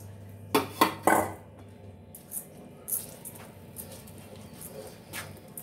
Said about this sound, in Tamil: போட்டு நல்லா கலந்துக்கலாம்